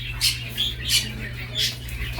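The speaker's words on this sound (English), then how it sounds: "look at me, the little morning doves" Mourning doves at a bird farm, several short high chirping calls repeating at intervals over a low steady hum, fairly close.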